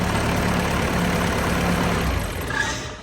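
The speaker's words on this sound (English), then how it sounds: "that rattle is the exhaust that's hanging off the back" A classic two-door Range Rover idles with a steady low rumble, a loose exhaust hanging off the back adding a rattle, heard close and continuous before the engine note eases near the end.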